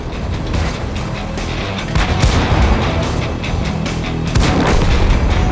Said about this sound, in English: Enemy artillery tries to avenge the fallen, but doesn't come anywhere close.